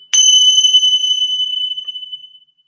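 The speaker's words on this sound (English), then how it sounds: "Another thing is I also have the little bells." Small bell struck once, used for clearing energy, giving a bright clean ring that sustains and slowly fades over about two seconds, close and alone.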